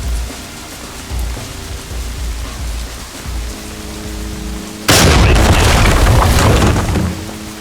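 A stinger grenade goes off during a tactical police breach in a video game: a sudden loud, broad blast erupts midway and lingers as a roaring wash, following a quieter stretch of low ambient hum.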